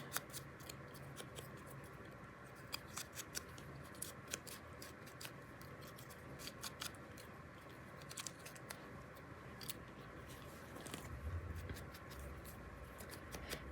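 Scissors snip through paper while cutting out small, fragile shapes, a quiet run of irregular, brief clicks and slices repeating across the whole stretch against a soft background.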